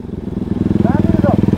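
A Honda NX 200 motorcycle idles nearby with a low, rapid, even thump that runs throughout while someone talks over it.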